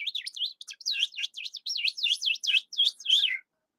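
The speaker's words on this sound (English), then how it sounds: "you've got birds in the back, and it sounds great, by the way." Small birds chirp and tweet in quick repeated bursts, bright and fairly close, continuing without pause for a few seconds with no voices.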